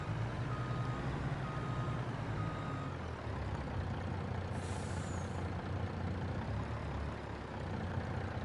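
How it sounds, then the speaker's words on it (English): A truck reverses with a steady engine rumble and hiss throughout, the backup beeps faint and repeating under the loud, continuous noise. "I'll be backing my truck up here."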